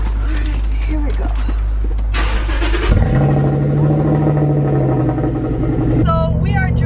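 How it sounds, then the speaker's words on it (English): Mercedes G-Wagon with a loud aftermarket exhaust starts up and roars while driving, a deep close rumble building and holding steady, with people talking and exclaiming over it. "It's got some crazy exhaust to it. You can hear a roar when we go on it."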